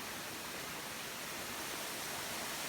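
Water flows steadily at a Sicilian water mill fed by the San Giorgio stream, turning a horizontal wooden wheel; a constant, broadband rushing hiss with no other sounds.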